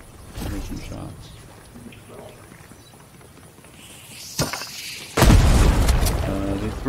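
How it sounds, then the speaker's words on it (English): Grenades explode in the Fortnite video game, with a sharp blast near 4.4 seconds followed by a loud, sustained burst of explosion noise from about 5.2 seconds. Players talk over the game sound. "They threw grenades over."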